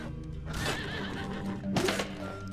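A horse whinnies in the Greek-mythology video game Apotheon during mounted combat: a loud, close neigh with wavering pitch, then a second sharp burst near the end, over a steady game backdrop.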